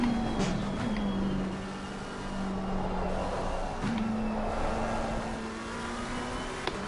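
A race car engine in the Assetto Corsa Competizione racing game at Monza drones at a steady mid pitch, with brief shifts in tone from gear changes, continuous and moderately loud.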